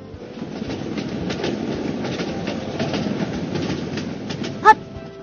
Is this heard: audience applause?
no